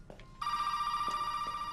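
A telephone rings loudly from a table in Resident Evil 7, a sustained electronic bell tone that starts after a brief click and carries on steadily to the end.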